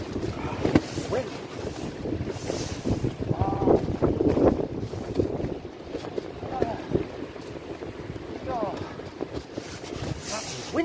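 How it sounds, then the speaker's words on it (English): Wind blows hard across Abbotsbury beach while fishing, a loud gusting roar buffeting close against the microphone throughout, with a voice heard under it. "That's wind out there."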